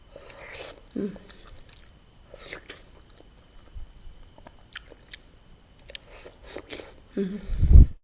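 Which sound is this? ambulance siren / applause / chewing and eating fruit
chewing and eating fruit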